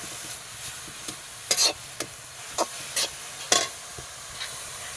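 Carrot and beetroot sauté in ghee with a soft background sizzle, broken by repeated sharp scraping strokes of a spoon stirring the pan, about a dozen irregular clinks and scrapes, close and without talk.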